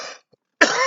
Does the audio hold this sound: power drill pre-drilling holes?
no